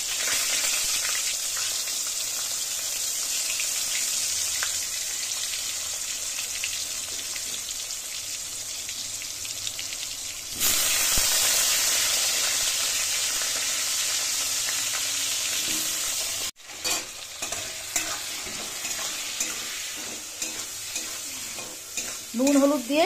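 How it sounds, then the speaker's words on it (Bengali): Potatoes fry in oil over black cumin tempering, a steady close sizzle that flares louder midway, briefly cuts out, then returns with stirring scrapes and crackles. "ফোড়নটা একটু গরম হলে আলুটা দিয়ে দিচ্ছি"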